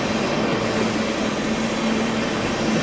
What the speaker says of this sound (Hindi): जी हाँ, ये है मुंबई राजधानी एक्सप्रेस।